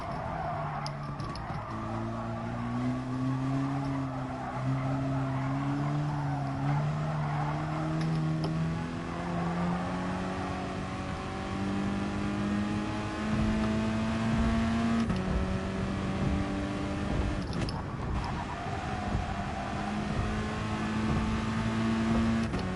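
Race car engine in Gran Turismo Sport during an FIA practice session, revving steadily with rising and falling pitch sweeps, loud and continuous throughout with a brief sharp burst near the end.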